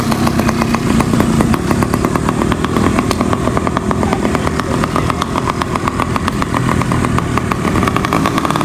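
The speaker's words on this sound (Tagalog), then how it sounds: "Bike with motor assist." A 100cc motor on a motorized fat trike runs steadily and loudly throughout, a buzzing, revving drone like a motorbike passing close by.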